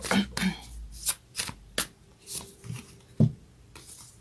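Moonology oracle cards being shuffled by hand, a series of sharp riffling bursts and soft slaps at close range, with quiet pauses between them and no talking.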